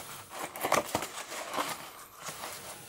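Birch bark harvested in summer is peeled and split into thin layers for a bark container, giving soft, close crinkling and crackling with a few brief sharper tearing bursts.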